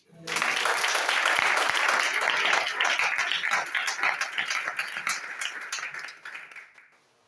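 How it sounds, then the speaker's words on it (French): A church congregation bursts into sustained applause and cheering for Jesus during a sermon, dense clapping and shouts that hold strong for several seconds before tapering off. "Est-ce que tu peux acclamer Jésus?"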